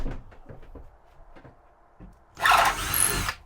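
A power drill enlarges bolt holes in a window frame on a Beneteau Antares 650 boat; after scattered knocks and handling sounds comes a single loud, harsh whirring burst lasting just under a second.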